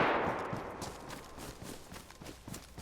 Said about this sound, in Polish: Teraz dwa strzały były.